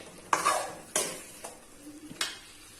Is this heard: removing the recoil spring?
no